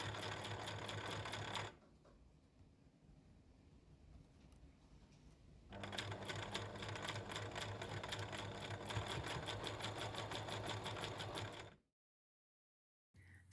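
A sewing machine stitches quilting squares along a pinned edge, running in two steady bursts of about two and six seconds with a quieter pause between, then stopping.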